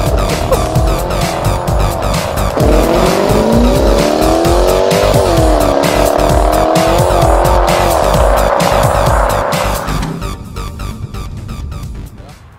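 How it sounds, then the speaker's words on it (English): Audi RS 7 with a 4-litre V8 launching from a standstill in sport mode, left foot braking then full throttle: a loud, continuous engine roar rising in pitch through the gears, with tire squeal, fading slightly at the end. "left foot on the brake, hold it nice and tight, floor the throttle"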